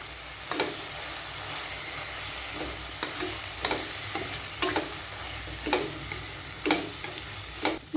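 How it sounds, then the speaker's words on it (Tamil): Oyster mushroom biryani masala sautéing in a pan, a steady sizzle broken by repeated scraping stir strokes at an irregular rhythm, close and fairly loud with no voices. "இது எல்லாத்தையும் சேர்த்து நல்லா வதக்கிக்கலாம்."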